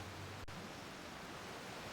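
Steady, even rush of a waterfall in the Genshin Impact game world, a broad constant wash of falling water with one brief click near the start and no voices.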